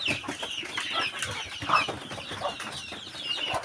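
A flock of native chickens clucks and squawks continuously at close range, overlapping busy calls from several birds in a chicken coop.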